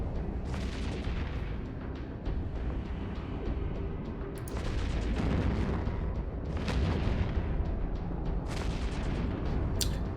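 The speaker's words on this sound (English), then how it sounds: "Oh, these amazing rockets." Rockets fire repeatedly in the Eve Echoes space game during a T9 mission, a dense stream of booming, crackling blasts that swell and fade in waves over a constant roaring bed, with no talk.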